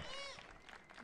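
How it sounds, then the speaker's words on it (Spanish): Audience applause at a recycling-and-building contest award, a short burst of dense clapping that fills the moment, with cheering voices mixed in. "otro aplauso"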